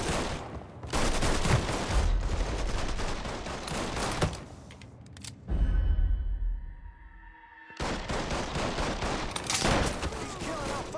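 Rapid bursts of automatic gunfire in a shooting video game, dense and loud, come in long volleys with a short pause of ringing quiet in between before the firing resumes.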